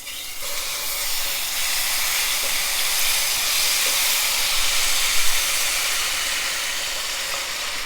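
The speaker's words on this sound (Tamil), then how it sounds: "இப்போ மசாலா பேஸ்ட்டை நல்லா வதக்கிக்கலாம்." Ground masala paste sautéed in a hot pan, giving a loud, continuous sizzling hiss up close that holds steady throughout.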